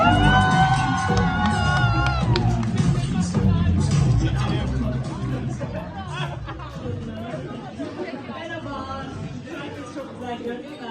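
Audience in an Istanbul awards hall cheering and applauding a guest's entrance, a loud mix of whoops, shouts and chatter under music-like tones, gradually settling into crowd babble.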